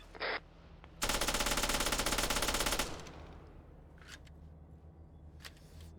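Rapid Vickers machine gun burst in a video game, a loud sustained automatic stream lasting nearly two seconds, followed by quieter distant pops and a brief sharp crack beforehand.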